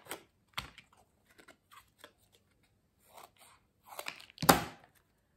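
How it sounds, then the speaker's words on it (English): Scissors snip paper or card into a long triangular penguin beak for a puppet, giving sparse, short crisp cuts and rustles, with a louder cluster of snips near the end. "what you need to do is cut out a long beaky triangle"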